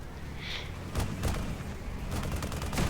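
The Doombringer heavy weapon in Tribes Ascend fires rapidly as a steady stream of loud, thudding shots that come in quick bursts over continuous rumbling battle noise.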